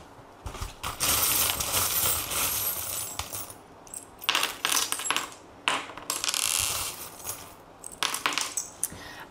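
Small divination charms are cast and clatter down in several bursts of bright metallic jingling and rattling, with short pauses between throws, heard up close and alone.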